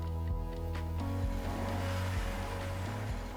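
A BMW 6 Series convertible, nearly five metres long, drives by with its engine revving through stepped rises in pitch. The engine is fairly faint and distant, and no one speaks.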